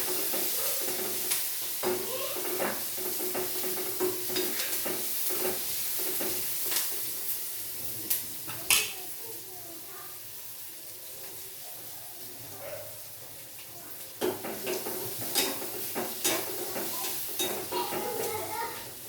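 Food fries in a home kitchen pan with turmeric and salt, a steady sizzle broken by frequent scrapes and clatter as it is stirred close by, with a voice talking at times.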